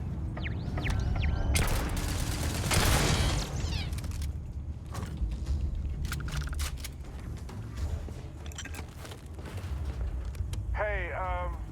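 Dense, loud gunfire and mechanical clatter in the sci-fi video game Starfield, bursts of shots and impacts layered with creaks and effects, a voice speaking briefly.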